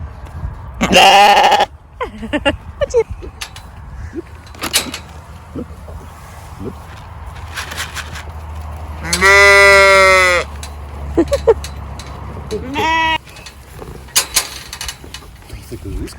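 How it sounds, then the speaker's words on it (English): Sheep bleating on a farm, several loud, wavering bleats close by at intervals, with people talking briefly between them and quiet background noise. "A sheep."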